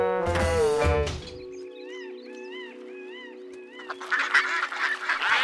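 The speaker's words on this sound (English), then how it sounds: "time for the ducks to fly home" Ducks quack in a rapid series of short nasal calls, moderately near, following a brief burst of voice, with rustling noise building toward the end.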